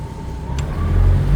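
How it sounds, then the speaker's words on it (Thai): Engine of train 440 revving hard at full throttle, a low, heavy rumble that steadily swells louder toward the end, with a faint steady tone above it. "เร่งเครื่องเต็มทีนะครับ"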